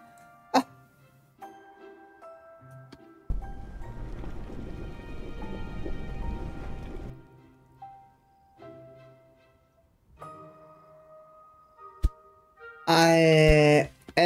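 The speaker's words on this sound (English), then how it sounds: "The storm is over." A rain shower in the Whirlight: No Time To Trip adventure game, a steady hissing downpour for several seconds amid quiet music and game sounds, with brief voiced exclamations around it.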